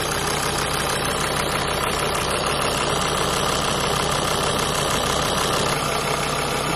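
A car engine idles at operating temperature, a continuous, even rumble with a dense mechanical hum that holds steady and loud from start to finish, with no voices.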